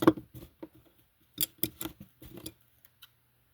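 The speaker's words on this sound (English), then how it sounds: "It's going to look strange, but you're just going to snip it" Scissors snip through crochet yarn while a bow keychain is being made: a few short, crisp clicks and cuts close by, spaced across a couple of seconds with quiet gaps between.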